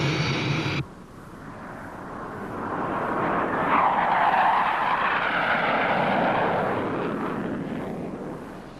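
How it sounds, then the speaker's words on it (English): Jet aircraft engine roars steadily in flight during an aerial pass over California's Carrizo Plain and the San Andreas fault, a broad rushing drone that swells to full loudness midway and holds, with no voices. "A specially equipped NASA jet allows us to see some of its most striking features from the air."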